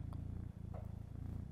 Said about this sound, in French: Elisabeth va adopter ce petit chat